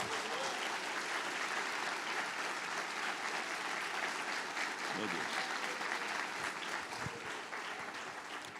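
Congregation at a church service applauding loudly and steadily, a dense wash of clapping that holds for the whole stretch, with scattered voices mixed faintly into the crowd.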